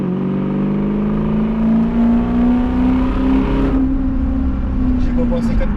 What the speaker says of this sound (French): le son de la voiture avec l'échappement percé